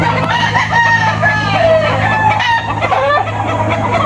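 Gamecock roosters on a Philippine gamefowl farm crow repeatedly and cluck, loud and near, with several birds overlapping and people talking faintly in the background.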